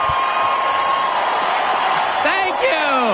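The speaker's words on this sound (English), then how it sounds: "I mean, listen to this crowd." A political rally crowd cheers and applauds loudly and continuously, with whoops rising above the clapping and a voice talking over the din.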